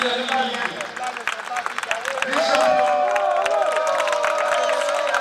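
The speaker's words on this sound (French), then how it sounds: "Vice-champion du tournoi, ça s'applaudit s'il vous plaît." Crowd at a company tournament prize ceremony claps and cheers for the runner-up, a steady mass of applause and shouts with voices mixed in.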